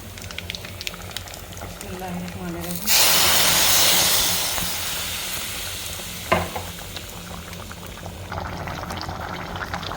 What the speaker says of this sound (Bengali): আমি এখানে একটু সরিষা আর একটু আস্ত জিরা দিয়েছি ফোড়নের জন্য